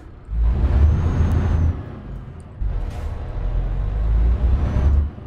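The loud diesel engine of a long MAN truck in Euro Truck Simulator 2 drones with a heavy low rumble, surging in two long stretches with a brief dip between them.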